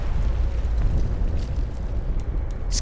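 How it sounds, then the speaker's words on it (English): Loud, continuous rumbling explosions in a video game, a dense low roar filling the whole stretch with no clear gaps between blasts. "everything's fucking exploding around me"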